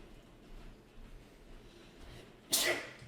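A single sharp sneeze bursts out near the end after a stretch of quiet room tone, close and loud, during a tabletop role-playing game session.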